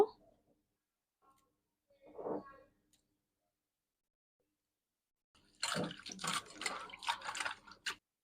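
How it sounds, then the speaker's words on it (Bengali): Fresh coriander leaves are washed in water: a faint early drip and splash, then a close burst of sloshing and splashing for a few seconds before stopping. "ধনে পাতাগুলো খুব ভালো করে ধুয়ে নিয়েছি"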